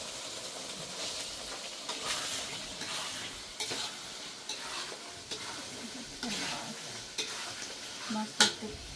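Fish pieces fry with spices in a hot pan, giving a continuous crackling sizzle broken by repeated stirring scrapes and a sharp metallic clink near the end.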